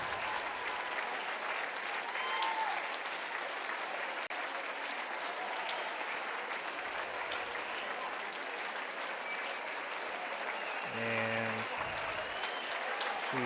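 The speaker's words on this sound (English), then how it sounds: "Crowd giving her some encouragement." Crowd at a girls' swimming state finals meet, sustained applause and cheering from a large indoor audience that holds steady throughout, with a commentator's voice coming in briefly near the end.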